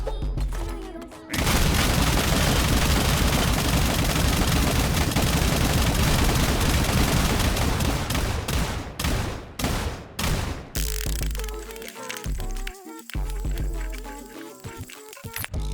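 A video-game gun fires in a long, dense barrage of rapid shots and booms that blur into a continuous roar, then breaks into separate bursts with gaps before fading into scattered blasts.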